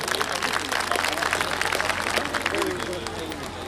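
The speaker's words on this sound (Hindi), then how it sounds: "तो एक बार इन बच्चों के ऊपर दुलार दिखा दीजिए जोरदार तालियों" An audience at a school annual function applauds a children's performance, with dense, lively clapping from a crowd and a murmur of voices beneath, easing slightly toward the end.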